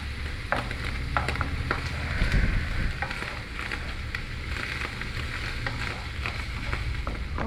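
Mushrooms sizzle steadily in a hot pan, the close frying hiss broken by scattered ticks and scrapes of stirring throughout.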